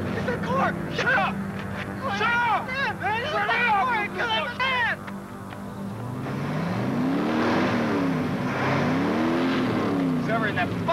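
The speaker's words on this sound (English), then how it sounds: "It's a car, man! It's a car!" A car engine rises and falls as the vehicle drives and accelerates, its low revving swelling loudly in the second half, while agitated voices talk over it earlier.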